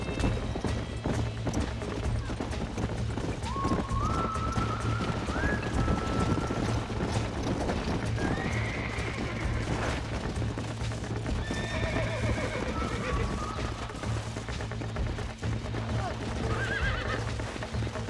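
Horse hooves clopping and a whinny in the western video game Red Dead Redemption, steady rhythmic clip-clop with rising neighs over constant rain-like ambience, fairly loud and close, no talk.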